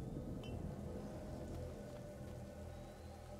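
Rain falls in the medieval adventure game A Plague Tale: Innocence, a steady soft patter with a few sharper drips, quiet and continuous with no talk.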